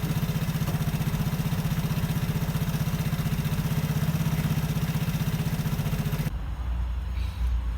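A Vespa Primavera scooter engine idles steadily while warming up before an oil change, a close, even mechanical putter with rapid firing pulses that runs unbroken for about six seconds and then cuts off, leaving a low rumble.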